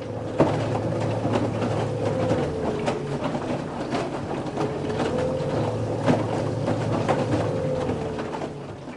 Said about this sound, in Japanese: 洗いの時に洗濯物を持ち上げて落とす叩き洗いをしている音です。